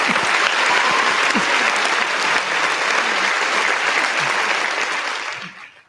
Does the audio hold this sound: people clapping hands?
yes